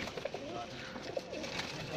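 Sialkoti pigeons in a loft give soft, faint coos, a couple of brief calls rising out of a quiet, murmuring room background.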